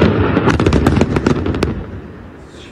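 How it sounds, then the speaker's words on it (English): Rapid series of sharp blasts and booms from carpet bombing in the Tyre district of southern Lebanon, a dense cluster of loud impacts over rumbling, then fading into a low roar. "the Israelis are also carpet bombing on Bujur al-Shamali in the Tyre district"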